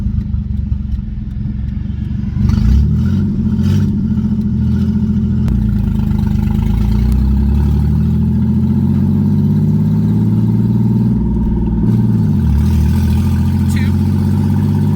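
A Ford SN95 Mustang engine drives up the road, a loud, steady low drone that rises as it pulls away and shifts through the gears, with a pause in revs partway through.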